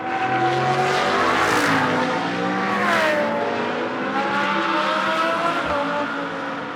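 Audi GT race cars run flat out on the back straight at the Moscow circuit during a Blancpain Sprint Series practice session, a loud, continuous engine roar whose pitch sweeps up and down as cars accelerate and pass close by.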